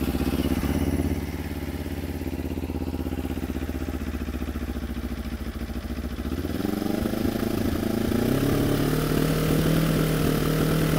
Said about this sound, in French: je démarre le moteur et puis on va voir un petit peu les vibrations